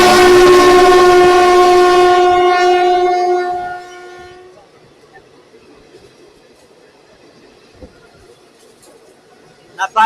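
Mumbai-Howrah Duronto Express, train 12261: a loud, sustained multi-tone horn blast for about four seconds, then fading to a quiet running rumble with faint knocks.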